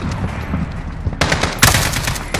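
Gunfire in the video game Call of Duty Modern Warfare, with rapid bursts of automatic fire that start softer and turn into sharp, loud volleys near the end, and no voice over them.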